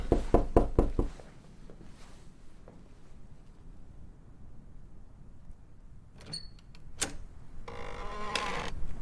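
In the video game This Is the Police 2, a quick run of four or five loud knocks on a door opens, followed by a quiet stretch and scattered thumps and rustling later.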